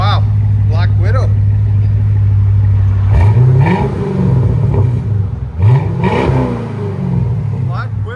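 A 2008 Chevy Corvette with a 6.2L V8 and Black Widow Angry Housewife exhaust idles with a deep, loud steady burble, broken by two quick throttle blips that rise and fall, while someone talks over it.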